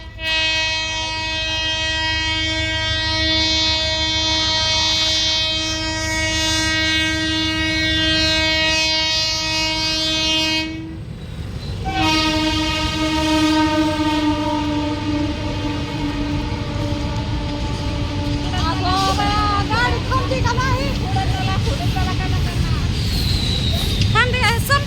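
A local train pulls into a station, sounding long, loud horn blasts over a heavy rolling rumble that goes on throughout, with voices faintly in the background.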